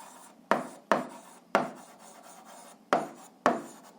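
A hand writes out an algebra formula, six short scratchy strokes landing at uneven intervals, close and quiet, each one a brief rasp that fades quickly. The room is otherwise silent and no one speaks.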